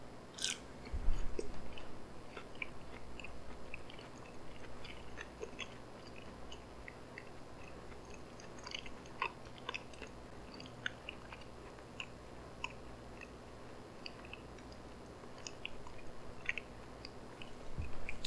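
Someone chews a single french fry up close, with a run of soft, repeated crunches and moist bites spread evenly over several seconds and no talking.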